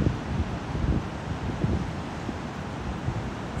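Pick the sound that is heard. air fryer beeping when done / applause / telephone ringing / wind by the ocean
wind by the ocean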